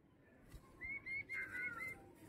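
A pet female pigeon, a good flier, gives a soft, faint cooing and whistly call in short bursts, close by in a quiet setting.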